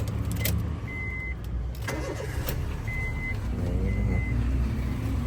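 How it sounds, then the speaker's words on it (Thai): A 2009 Honda Jazz GE 1.5 SV engine cranks and catches, settling into a running rumble, with a few short electronic beeps chirping over it. "สตาร์ทเครื่องแล้ว"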